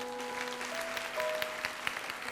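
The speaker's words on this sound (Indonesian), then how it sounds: "kasih tepuk tangan tuh Tuhan" A church congregation applauds during a Christian worship service sermon, a steady broadband wash of clapping at moderate distance with a sustained tonal hum underneath and a few sharper claps standing out.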